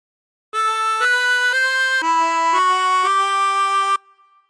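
A chromatic harmonica plays a short phrase of the Star Spangled Banner, sustained reedy notes stepping between pitches with a slide-button change, clear and close, alone for about three and a half seconds before the last note fades.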